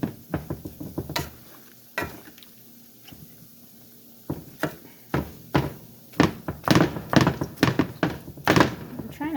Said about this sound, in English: Making a lot of noise because my pan is uneven.